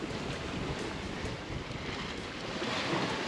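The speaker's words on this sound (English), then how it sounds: "The waves are on our quarter stern, and they're not choppy." A sailboat on a broad reach off Florida's Gulf coast, with moderate, unchoppy waves on the quarter; a steady, dense wash of water and wind noise runs evenly throughout, with no talking.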